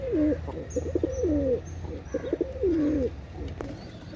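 Chinese teddy pigeons cooing nearby, several rolling, warbling coos repeating in bursts over a low background hum, with faint chirps in between.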